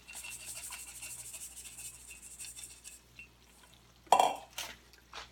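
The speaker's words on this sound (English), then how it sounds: "I'm going to toss in our chopped toasted hazelnuts." Chopped toasted hazelnuts are tossed into a pan of spaghetti aglio e olio, giving a short clatter and scrape against the pan after a stretch of quiet kitchen hiss, followed by a few smaller knocks.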